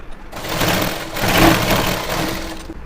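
A sewing machine runs continuously while stitching an extra line over the crotch seam of gathered pants, a steady close whirring hum lasting nearly three seconds with no voices.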